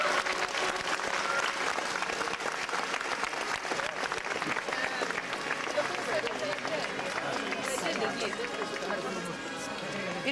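A church congregation applauds as a statue of the Madonna leaves the church at the start of a May procession, with loud continuous clapping mixed with crowd murmur and chatter throughout.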